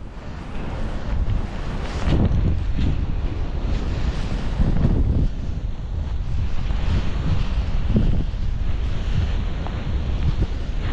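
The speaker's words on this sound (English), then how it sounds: "The wind is intense." Intense gusty wind roars across a mountain ski slope on a powder day, loud and continuous with surging blasts that batter the microphone.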